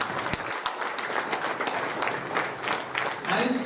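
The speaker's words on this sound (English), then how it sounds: "So I think all of you deserve an extreme loud round of applause." An audience at a Telangana placement officers' consortium event breaks into a round of applause, with scattered distinct claps within a steady crowd clatter, moderately distant, while a voice talks over part of it.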